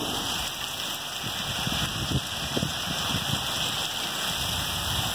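Steady rain, falling with hail, pattering on a surface nearby, with scattered louder drips and splashes standing out over a constant hiss.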